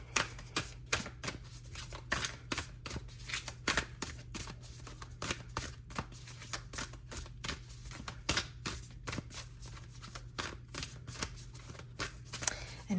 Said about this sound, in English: Now I can shuffle these cards.